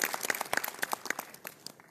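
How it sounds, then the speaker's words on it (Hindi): A seated audience claps in welcome at a motivational program, sparse distinct hand claps in a loose rhythm, fairly faint and thinning out toward the end. "ओसीएम साहब का एक बार जोरदार तालियों से स्वागत करते हैं"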